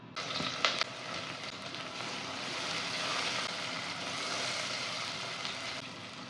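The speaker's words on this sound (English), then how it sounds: "Add sliced onions and fry until golden brown" Sliced onions frying in hot mustard oil inside a pressure cooker for a dhaba-style mutton chana dal gosht give a steady, broad sizzle throughout, with a few sharper pops and crackles near the start.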